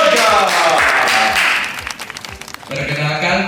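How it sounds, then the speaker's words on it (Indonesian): Guests at a corporate gathering in a hotel applaud over background music, a burst of clapping that is strong at first and then thins out midway while the music carries on. "Beri tepuk tangan yang meriah."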